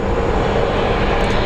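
Steady, loud engine roar of an American Airlines airliner rolling up at Phoenix Sky Harbor airport, a continuous broadband rumble with no breaks.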